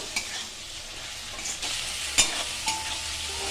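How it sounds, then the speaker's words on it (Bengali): Chillies and spices sizzle in hot oil in a pan for an egg tadka, a steady close crackling hiss broken by a few soft clinks of stirring, with no voices. "এগুলো দিয়ে আমি একটু ভালো করে ভেজে নেব"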